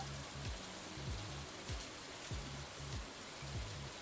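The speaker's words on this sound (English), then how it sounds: "It is raining. Oh, wow, it's raining a lot." Heavy rain in the video game Stardew Valley, a steady, quiet wash of rain noise with soft patter, plus faint recurring low game tones underneath, no talking.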